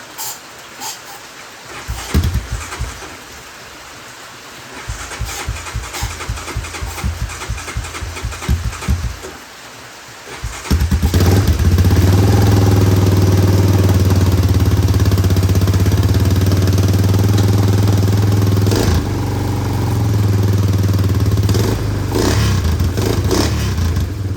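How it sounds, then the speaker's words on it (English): A Honda Recon ATV engine sputters and stumbles at first, then settles into a loud, steady idle with a low rumbling throb that continues alone. "Seems to be running on its own now."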